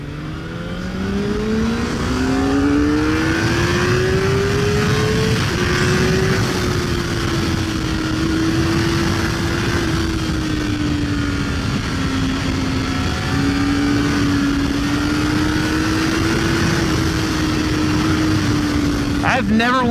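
A 2023 Kawasaki ZX-4RR sport bike engine held wide open while riding, a loud, steady high-pitched inline-four wail with rising and falling pitch as it shifts, constant wind rush throughout, no pauses.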